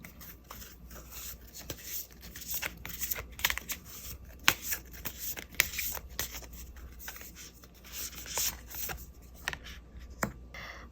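Tarot cards handled and drawn, producing soft, close, scattered flicks, taps and slides of card stock in an irregular rhythm over near silence, with no voices.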